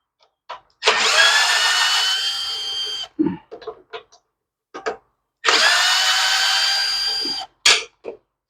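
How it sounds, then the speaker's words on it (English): A cordless battery drill runs in two long, steady bursts while removing fasteners from the carburetor of a small Honda lawn mower that won't start, with brief clicks and handling noises between the runs. "Sounds like our drill's getting a little bit light on battery here."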